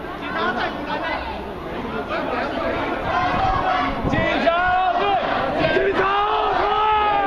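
Protest crowd in Taipei yelling at police during the occupation of the Executive Yuan: many overlapping shouting voices and chatter close by, a dense, agitated din with rising cries throughout.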